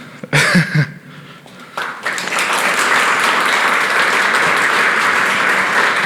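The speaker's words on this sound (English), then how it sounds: "With a round of applause to Sander" A conference audience applauds a speaker. A few brief sounds open the clip, then clapping swells into steady, dense applause that carries on to the end.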